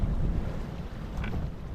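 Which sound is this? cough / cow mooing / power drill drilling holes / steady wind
steady wind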